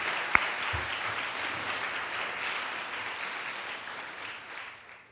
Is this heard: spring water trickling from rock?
no